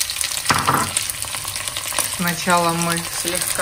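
Prepared vegetables sizzle and crackle in hot oil in a pot as Argentine dishes are cooked. The frying is steady and close, with someone speaking briefly over it.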